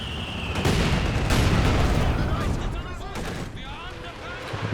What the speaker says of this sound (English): Couple good hits from the mortar.